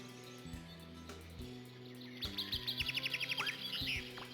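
Birds in the 1992 video game Alone in the Dark chirp in a quick, rapid run of bright tweets, rising over a low ambient game drone with scattered soft thuds.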